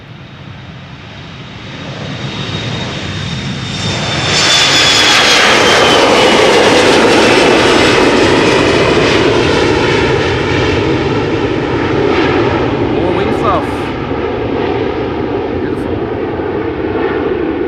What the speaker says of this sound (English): Number 175, KLM flight 915. 8-year-old airplane, first flight March 2016.